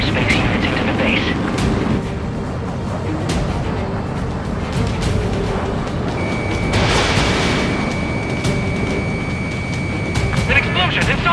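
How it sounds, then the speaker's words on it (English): An explosion inside a base in the video game Ace Combat 7, heard as rumbling booms and blasts beneath radio chatter and a sustained alarm-like tone, with voices talking over much of it. "An explosion inside!"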